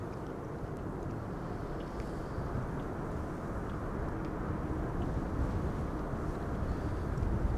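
An Air France Bombardier C Series airliner arrives at Amsterdam Schiphol Airport in windy conditions, a distant, steady broadband engine roar that swells slightly as it approaches, mixed with wind noise.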